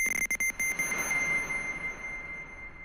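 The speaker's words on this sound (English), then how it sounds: "So I just chopped up the beeping part of the computer sound" A sharp electronic computer beep, chopped in FL Studio, repeats several times in quick, choppy bursts, then one tone rings out into a long, shimmering reverb tail.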